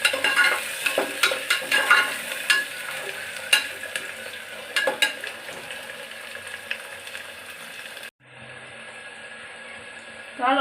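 Chopped potato dropped into a pan of frying food in a home kitchen and stirred, with steady sizzling, scraping utensil clicks against the pan, then a brief drop to near silence before the sizzle returns.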